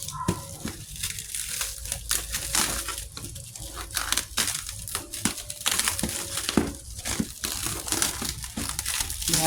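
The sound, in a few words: opening a tightly sealed cardboard box of Aglaonema plants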